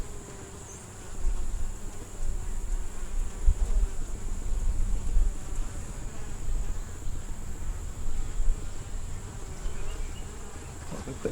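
Honey bees swarm around an open beehive during an inspection, their dense buzzing humming steadily and close throughout, with no talk over it.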